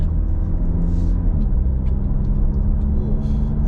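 A brand-new left-hand-drive Audi Q3 is driven along roads near Marbella, a steady low engine and road rumble heard from inside the cabin with no talk.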